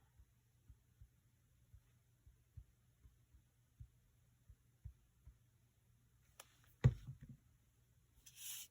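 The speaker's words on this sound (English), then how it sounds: "we can take this to the sewing machine. And I'll just do a quick straight stitch." Sewing machine running a straight stitch through a junk journal pocket: a soft, even series of low rhythmic thumps ticking along at a steady pace, followed by a brief clunk and rustle as the sewing stops.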